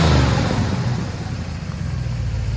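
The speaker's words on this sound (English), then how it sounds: "Actually, go ahead and rev it up a little bit." A 1965 Chevrolet Chevelle Malibu engine revs up from idle, a steady close rumbling drone that swells slightly and then settles.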